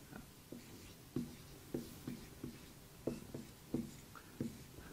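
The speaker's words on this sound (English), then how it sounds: "So let's write that word up there." Marker or chalk writing on a board in a maths lecture, a series of short distinct taps and strokes spaced about half a second apart, fairly close and alone with no talking.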